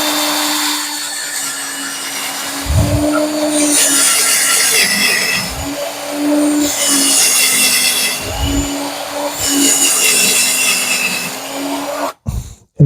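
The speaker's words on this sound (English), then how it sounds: "So I'm going to drill on this side halfway down." A power drill bores partway into wood, its steady motor whine broken by several loud, grinding bursts as the bit bites, close and alone, ending in a sharp clunk.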